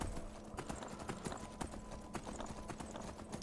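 Horse hooves clip-clop steadily in Skyrim, a quick rhythmic run of fairly close hoof hits over low game ambience with no talk.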